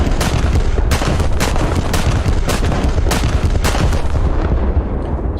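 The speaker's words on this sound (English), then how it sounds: "the big old guns firing." In War Thunder, the IJN Ise battleship fires its main guns in a broadside, a rapid series of heavy booms, about a dozen over several seconds. The shots are loud and rolling, with no talk over them.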